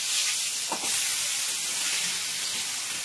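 Small diced potato pieces, coated with salt and turmeric, fry in hot oil over a high flame, giving a constant loud steamy sizzle and hiss with a couple of faint stirring scrapes.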